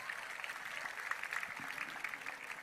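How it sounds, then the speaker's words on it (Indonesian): Audience applause at a formal gathering in Bali during a speech by the governor: steady, moderately distant crowd clapping, continuous and even throughout. "Tepuk tangan untuk beliau"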